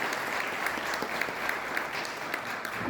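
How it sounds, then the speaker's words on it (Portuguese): A church congregation applauds during a sermon: steady, dense clapping from many hands fills the hall at moderate volume without a break. "Podemos aplaudir?"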